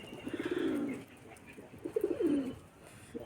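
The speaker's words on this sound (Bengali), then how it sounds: "এই দেখো গোলা পায়রাটা ছাড়তেই ডাকতে শুরু করে দিয়েছে" A rock pigeon coos nearby in two soft, rolling bouts separated by a short pause.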